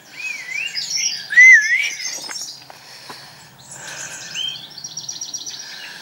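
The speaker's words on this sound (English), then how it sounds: "You can hear all the birdies." Birds chirp and sing in bright, warbling phrases at a local nature reserve near Congresbury, with several calls overlapping against quiet background and no talking.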